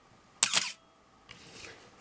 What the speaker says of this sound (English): If I can set this to run the shutter here.